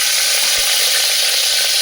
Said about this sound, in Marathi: मी आता हा कांदा जो स्वच्छ आपण धुवून घेतलेला आहे ना तो मी याच्यामध्ये आता टाकून तो तळून घेणार आहे या कुकरमध्ये